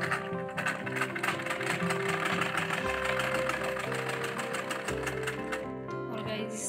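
A sewing machine runs steadily as it stitches elastic into the waist of palazzo pants. The fast, even mechanical whir sounds close, with a short pause partway through.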